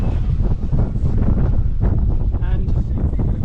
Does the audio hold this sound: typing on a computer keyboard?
no